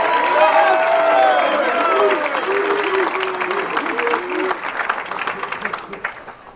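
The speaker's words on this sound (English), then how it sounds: "You can clap for him, go ahead." A commencement audience at a school graduation applauds a faculty speaker, a broad wash of crowd clapping that starts full and gradually thins, with voices and a few cheers heard underneath.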